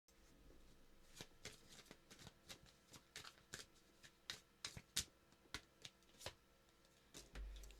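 Tarot cards being shuffled by hand close up, a soft riffling with a string of crisp flicks and light taps that grow louder midway, quiet and alone.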